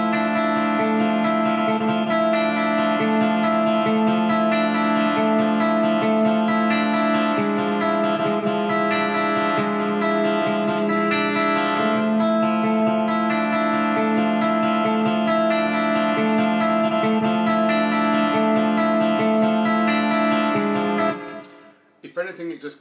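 Sustained electric guitar chords ringing through lush reverb and delay on a Line 6 Helix, reverb placed after the delay, shimmering and layered with bright top end, played steadily before fading out at the end.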